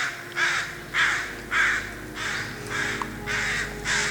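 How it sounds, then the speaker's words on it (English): A crow in the forest giving harsh alarm caws, about seven loud, evenly spaced calls repeating steadily over quiet woodland background. "That crow knows we're here and is kind of upset, and that's why it won't shut up"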